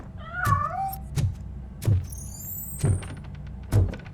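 Cat meowing in the video game RoboCop: Rogue City, a clear high meow near the start over a low ambient game bed with several dull thumps recurring roughly once a second.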